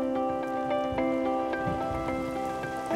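Steady rain falls on a muddy field in Wales, a continuous soft patter of drops with faint scattered taps, fairly quiet and alone without voices.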